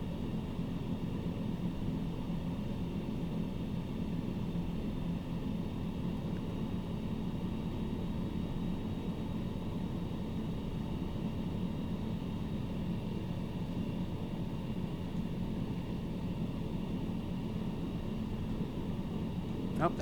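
A small bush plane's engine drones steadily in Microsoft Flight Simulator 2020 while the pilot throttles up on a mountain flight. The hum is constant and fairly loud, with no clear rise in pitch and no other sounds over it.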